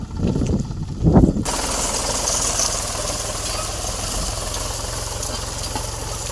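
After a couple of heavy thumps, a tractor engine settles into a steady, rattling chug that continues throughout at close range as it pulls cotton stalks from a field.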